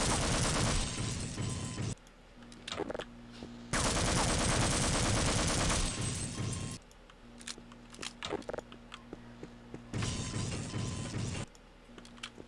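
Bursts of automatic gunfire in Half-Life: Opposing Force, loud and dense, arriving in three long sustained volleys with a few scattered single shots and clatter between them.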